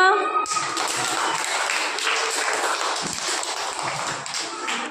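Children in a classroom clap their hands together, a sustained, fairly loud patter of many small claps that fills the whole stretch, with a voice heard briefly at the start.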